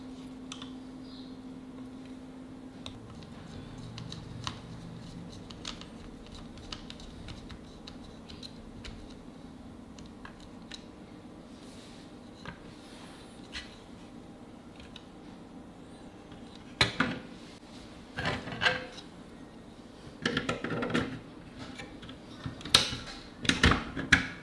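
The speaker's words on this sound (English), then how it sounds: "let's screw the PCIe riser adapter onto the 3D printed bracket, and then install the bracket into the PC case" Screws being driven to fix a PCIe riser adapter onto a 3D printed bracket inside a Dell 7060 Micro PC give soft, scattered ticks and clicks, quiet at first, then a louder burst of clattering handling near the end.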